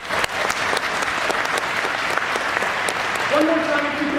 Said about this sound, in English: let's clap it up for half the room